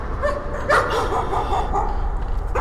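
Dog barking in the horror video game Layers of Fear, a few short barks and yips over a steady droning ambience, moderately loud and somewhat distant, with no talk.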